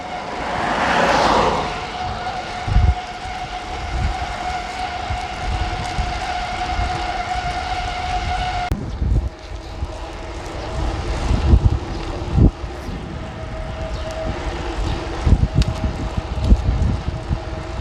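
Wind roaring against a cyclist on a 70 km bicycle ride, a loud, continuous buffeting rush with steady hum and scattered bumps throughout.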